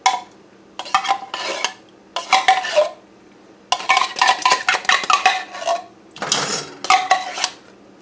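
A utensil scrapes and clanks against a pot in repeated bursts as cream of chicken soup is stirred into a chicken base for chicken and dumplings, loud and close with short pauses.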